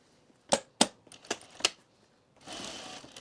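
A sewing machine stitching bias binding at a quarter-inch seam, several sharp separate clacks as the fabric is handled, then a short steady mechanical whir of stitching, close up with no talking.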